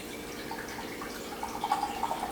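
Plain coconut water, half a cup, poured into a Thai venison satay marinade with garlic powder, trickling and splashing softly and close for a couple of seconds, growing a little brighter toward the end.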